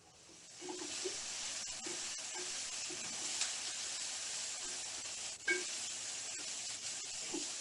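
Vegetables cooking in a pan on a home stove give off a soft, steady hiss and sizzle of steam, faint and continuous throughout, with a few small bumps and no talking.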